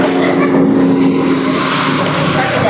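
Vehicle passing along a street, a loud, steady broadband road roar that fills the whole moment without clear rise or fall, close to the listener.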